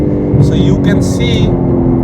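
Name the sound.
BMW G80 M3 CS exhaust accelerating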